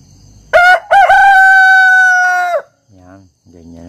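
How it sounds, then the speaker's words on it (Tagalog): A rooster crows loudly and close by in the early morning at a rural home, one long, strained cock-a-doodle-doo after a sharp opening burst, followed by softer clucks and calls. "Itong aking mga tandang."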